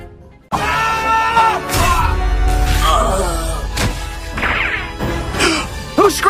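Shrill cartoon screaming in an animated musical-comedy scene, several loud wavering cries and yells over a continuous busy background with crashes.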